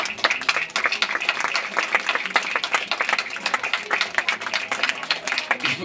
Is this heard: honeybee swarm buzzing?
no